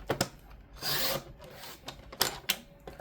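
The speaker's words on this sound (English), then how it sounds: "I start at the top. I am trimming down to classic size." Paper planner inserts being trimmed down to classic size, heard as close, dry scraping and rasping strokes with a few sharp ticks and thumps in between, quiet, with no talking.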